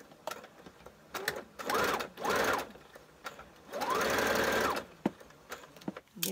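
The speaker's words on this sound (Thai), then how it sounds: "เย็บเลยค่ะ" A sewing machine stitches a shirt in three loud bursts of rapid whirring, one short, one medium and one longer, separated by quiet handling clicks and pauses.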